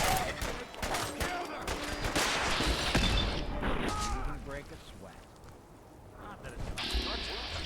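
Rockets and heavy weapons fired during a firefight in the video game Fallout 4, a chaotic run of loud blasts, booms and crackling gunfire that swells, dips briefly and then picks up again.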